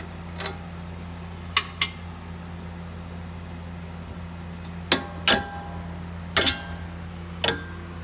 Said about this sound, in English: we're going to remove the end link from the sway bar itself using an 18mm ratchet wrench